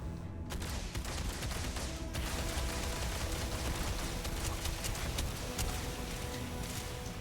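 Rapid turret gunfire in Starfield, sustained automatic bursts that keep going for several seconds at steady loudness, with no voices over it.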